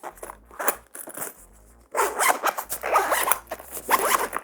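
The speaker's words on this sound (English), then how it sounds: "The zipper on this is my favorite out of all 4 that I've talked about. It's super duper smooth." A zipper on a tech pouch is pulled open and closed in several quick, close rasping strokes separated by brief pauses, crisp and clear with no talk.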